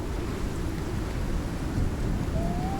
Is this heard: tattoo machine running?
no